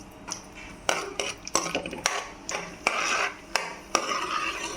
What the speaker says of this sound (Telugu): ఆయిల్ కాగాక ఇలా జీడిపప్పును అయితే వేసేసుకొని వేయించుకోండి.